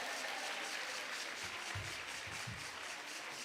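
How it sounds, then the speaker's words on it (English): At a judges' conference opening session in Cape Town, a large hall audience claps in a soft, steady wash of applause heard from a distance, with a few louder thumps near the end. "Another round of applause, ladies and gentlemen"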